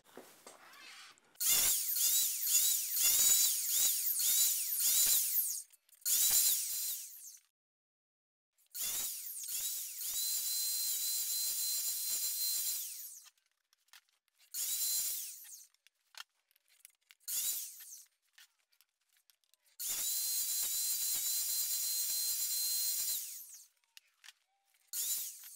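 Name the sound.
compound miter saw cutting shelf grooves in wood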